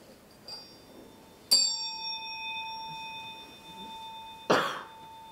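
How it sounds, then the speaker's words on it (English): Tibetan bells ring out twice, each a bright metallic strike with long sustained shimmering tones that hang and fade, alongside soft room sounds and a cough-like noise near the end. "These Tibetan bells are really great."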